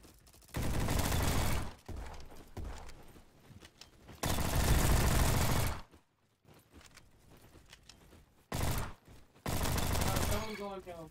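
Loud sustained bursts of G18 submachine gun fire in a first-person shooter game, several long rapid volleys broken by quieter gaps with game noises.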